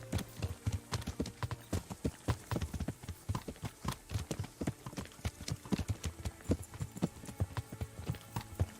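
Horses walk along a village road by rebuilt stables in Kingdom Come: Deliverance, hooves clip-clopping in a steady uneven rhythm, fairly quiet and close, with no voices over them.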